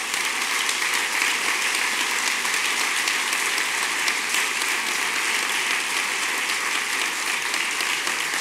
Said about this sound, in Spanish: Os quiero pedir un aplauso para ellos y ellas.